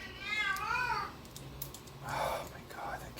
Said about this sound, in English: Oh my God, that cat is in heat.